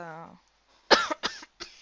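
A few sharp coughs in quick succession, close and fairly loud, after a moment of a voice humming or speaking a tone.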